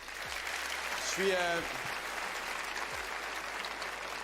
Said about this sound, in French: Pierre Caron, Pierre-Luc Racine, on les applaudit